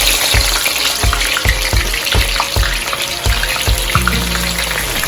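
Pepper and onions are dropped into hot oil for Ghanaian jollof rice, and a steady broad sizzle follows with repeated thumps and clatter as they are stirred close to the pan. No one speaks.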